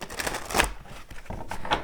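Tarot cards are shuffled by hand in two quick riffling bursts, close and crisp, with papery rustling between them and no talking.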